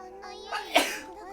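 A single sharp sneeze in a video game scene, close and clear, set against a faint background tone with a brief breathy lead-in.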